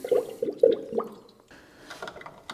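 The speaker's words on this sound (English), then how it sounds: "don't forget to put your coolant back in." Coolant is poured back into a Ford radiator during a thermostat housing gasket job, heard as a few close sloshing glugs and splashes that fade into softer trickling and faint knocks.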